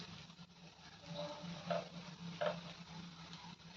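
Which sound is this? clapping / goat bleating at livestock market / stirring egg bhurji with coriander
stirring egg bhurji with coriander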